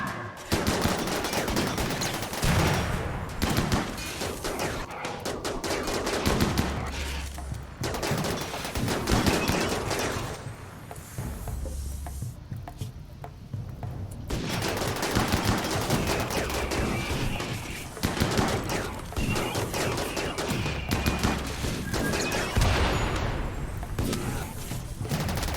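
Rapid gunfire from the video game Rimworld rattles in dense bursts during a combat scene, layered over a continuous busy game soundtrack.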